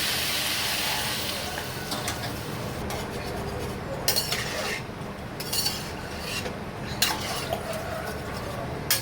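Water poured into a cauliflower curry after frying down the spices, a steady rushing hiss with bubbling and a few utensil clinks against the pot, close and continuous with no talking.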